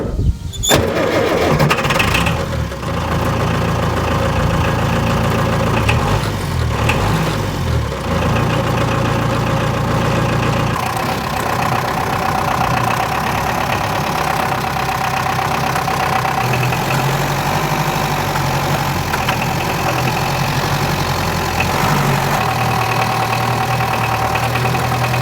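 A Unimog 411 with a 32 hp inline-four diesel cranks and fires, then settles into a steady, slightly knocking idle that runs on without a break, close and fairly loud with no talking.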